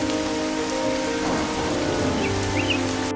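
Steady rain patters on surfaces in a Hindi cartoon, a constant dense hiss with no voices. A faint low rumble and a few brief chirps sound under the downpour.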